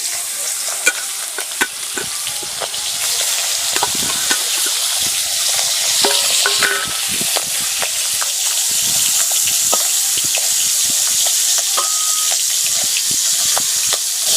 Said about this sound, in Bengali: এবার ওই তেলের মধ্যে চিংড়ি মাছগুলো ভেজে নেব।